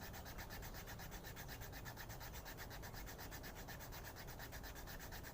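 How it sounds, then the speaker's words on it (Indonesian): Bamboo Sundanese flute rubbed to smooth its surface, a close, continuous, rhythmic scraping and sanding rasp with steady back-and-forth strokes and no speech. "Caranya begini, kita gosok ya. Kita gosok terus."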